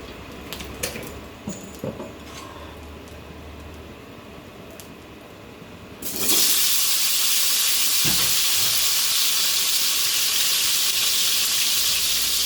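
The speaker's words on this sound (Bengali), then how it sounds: "এখন এই তেলে আমি পটলটা ভেজে নিব।" Pointed gourd (potol) dropped into hot oil after potatoes were fried, a loud bright sizzle that bursts in suddenly after quieter kitchen clatter and keeps hissing steadily, with no talk.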